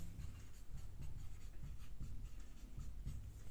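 Pen scratching on paper as a teacher writes out a Hindi grammar example, a steady series of soft, close strokes and scrapes running throughout with no talking.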